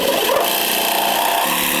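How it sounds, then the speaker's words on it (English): A reciprocating saw cuts through the plastic-covered aluminum bumper of a 2023 Jeep Grand Cherokee 4xe Trailhawk, making a loud, steady rasping buzz that stays close and continuous from start to end. "So we'll use the reciprocating saw here and just cut through this white line on both sides."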